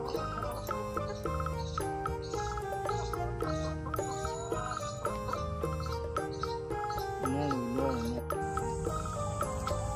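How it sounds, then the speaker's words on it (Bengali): Native village hens clucking amid a busy, layered backdrop of music-like tones and ticking sounds, the birds' calls scattered and moderately loud throughout. "দেশি মুরগি"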